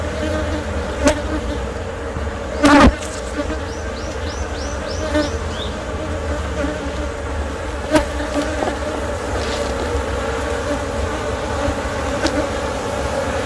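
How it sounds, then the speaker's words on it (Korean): A swarm of native Korean honeybees crowds into a new wooden hive, making a steady, dense buzzing drone close by, with a few brief knocks and clicks and no talking. "여왕벌이 안에 있으니까 벌들이 들어가고 있는 것 같습니다"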